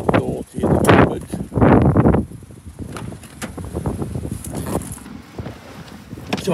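Gusty outdoor wind buffets the microphone in loud low rumbling bursts beside a cemetery in Blackpool, rising and easing in waves, then settling into a steadier rushing roar.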